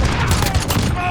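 Rapid bursts of rifle fire from a first-person shooter game, loud and dense throughout a brief stretch, with shots running together.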